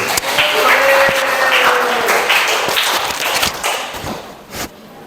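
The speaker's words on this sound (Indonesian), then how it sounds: "Tepuk tangan untuk Rima dan Mas Jun." Classroom applause for two students, a short burst of clapping from a small group of students that tapers off with a few louder individual claps near the end.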